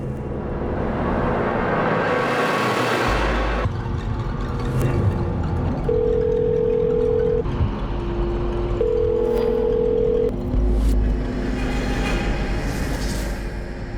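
A phone call rings and goes unanswered: two steady, evenly spaced ringback tones sound over a constant hum of background noise, with no one speaking.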